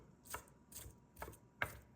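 Knife dicing thin strips of vegetable into small quarter-inch pieces on a cutting board, with four separate chops spaced about half a second apart, fairly quiet and close, and no talking.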